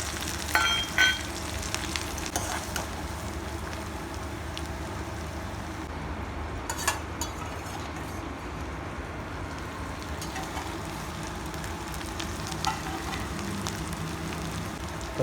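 Chopped onions and mustard seeds frying in hot oil for a Chhattisgarhi bamboo shoot curry, a soft, even crackle and hiss that runs steadily throughout with no voices.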